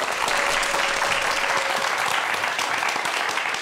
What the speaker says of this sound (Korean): 큰 박수로 환영해 주세요